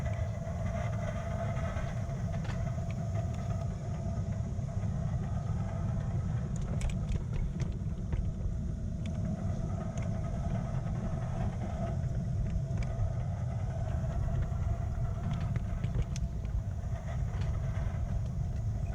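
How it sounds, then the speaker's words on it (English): A 7 1/4 inch gauge miniature steam locomotive runs along an outdoor line, its steady low rumble and chuffing continuous throughout, with scattered faint clanks and higher ticks over the top. "The engine's steaming lovely now,"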